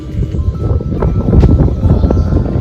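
Wind buffets an iPhone XR front camera microphone outdoors on a sunny day, producing loud, continuous low rumbling gusts with no clear pauses.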